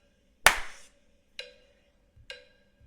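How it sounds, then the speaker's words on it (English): Single sharp hand claps made for syncing video, one loud clap followed by two softer ones about a second apart, each crisp and close with a short ringing tail in a quiet room. "1, 2, ready, clap"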